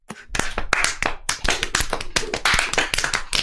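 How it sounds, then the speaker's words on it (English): Fast, busy clapping on legs and hands by a group during a six-measure music break, a dense patter of slaps and claps with a lively, irregular rhythm and no voices. "There's a 6-measure break now, where we all do the leg hand clap."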